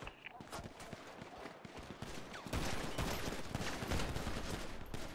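Dense gunfire from a video game shootout outside a shop on Grove Street, rapid shots overlapping in a continuous fusillade that grows louder halfway through, with faint voices mixed underneath.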